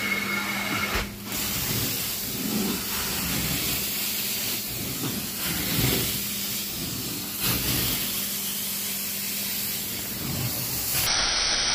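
Steam carpet cleaner hissing steadily over a very dirty carpet, a loud continuous spray of steam with slight surges and dips, running alone throughout.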